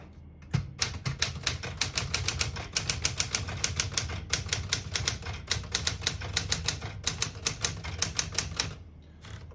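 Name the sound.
typing on a 1972 Smith-Corona Super Sterling typewriter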